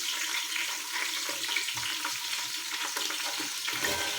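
Green chillies fry in a pan for a country chicken biryani, producing a steady bright crackling sizzle with faint stirring clinks, fairly soft and close, without speech.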